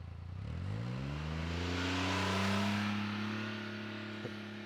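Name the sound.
off-road utility vehicle accelerating away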